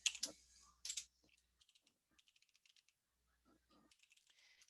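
Quiet typing on a computer keyboard during a PowerPoint demonstration, a few sharp clicks up front then a light, irregular run of keystrokes, close and alone without talk.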